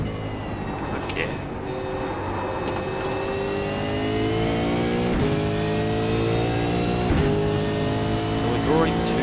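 A race car engine in a racing game at Spa, a continuous close whine that rises through the gears with sharp drops at each upshift, while someone talks over it.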